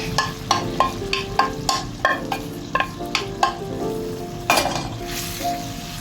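Mung beans (munggo) frying in a pan, stirred with a utensil that scrapes and clinks against the metal in repeated sharp strokes over a constant sizzle, with a louder rattling flurry near the end.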